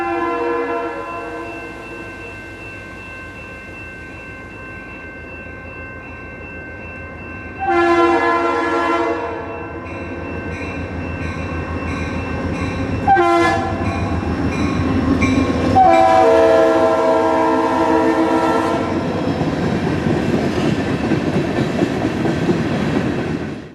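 A Berkshire and Eastern freight train, the Bellows Falls turn, passes nearby in New England with a loud, sustained horn blast, then a brief second blast, over a rising rumble of rolling wagons.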